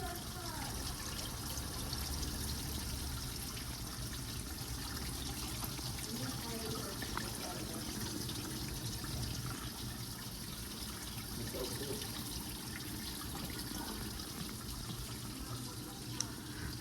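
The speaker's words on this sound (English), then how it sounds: "It kind of sounds like a waterfall." Water trickles steadily through an indoor Lettuce Grow Farm Stand hydroponic tower, a continuous soft splashing like a small waterfall, close by and even throughout, with faint voice-like sounds in the background.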